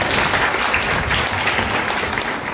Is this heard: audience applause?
yes